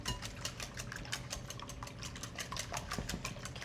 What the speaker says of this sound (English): I like to whisk for about a minute, making sure that everything's nice and combined for our quiche filling